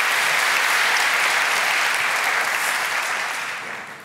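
Conference audience at Laracon EU 2024 bursts into dense, steady applause that fills the room, then begins to taper off near the end.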